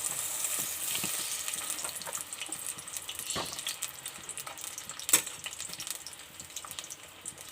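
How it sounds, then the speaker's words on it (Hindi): Onions frying in half a cup of oil for an eggplant and potato sabzi, a steady soft sizzle with faint utensil scrapes and a sharper clink about two-thirds through, no talking. "प्याज को हमें हल्का ब्राउन करना है, ज़्यादा सा कलर डार्क नहीं करना"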